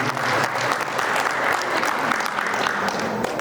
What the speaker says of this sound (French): je vais citer Mme Amina Mouni, que je demande d'applaudir.